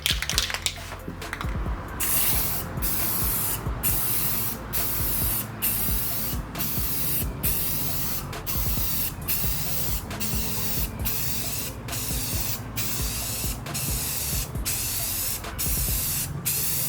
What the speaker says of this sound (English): We're gonna put on our coat of Rust-Oleum gloss black.